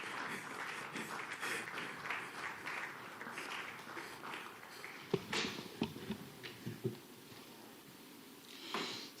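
An audience at a housing policy forum claps, scattered and fairly faint, thinning into a few isolated louder claps and taps toward the end.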